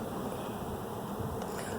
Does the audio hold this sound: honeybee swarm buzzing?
yes